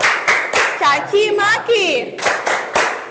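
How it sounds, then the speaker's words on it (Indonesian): Children in a class clap their hands in a rhythmic chant pattern, sharp claps in quick bursts, mixed with a voice speaking and sing-song talk. "tepuk tangan semuanya"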